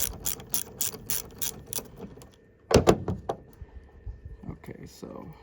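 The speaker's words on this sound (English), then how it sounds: "So yes, a full wrench and a socket, 10 millimeter." A wrench with a 10 mm socket turning a bolt on a Haul Master trailer jack, with rapid ratcheting clicks in quick bursts, close up, then a pause and a few slower ratchet clicks and metallic knocks.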